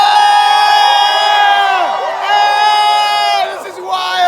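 A large crowd cheers and whoops loudly at the opening day of Star Wars Galaxy's Edge, with sustained shouting and overlapping yells, close and continuous.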